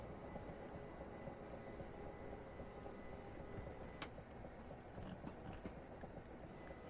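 A train on the Chatham Main Line, on the London Victoria to Ramsgate service, rolls toward Chatham, heard as a faint, steady rumble of wheels and carriage noise from on board, with a few light clicks.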